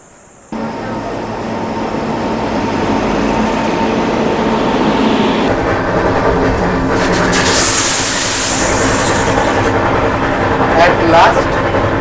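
Kanchankanya Express train running on the Dooars route, heard from inside the coach as a loud steady rumble and rattle of wheels, with a brief hissing burst midway.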